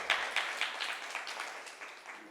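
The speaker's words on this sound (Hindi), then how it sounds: "जोरदार तालियां।" An audience at a quiz gathering claps in a brief burst of applause, a series of soft, rapid claps fading over about two seconds, fairly faint and distant.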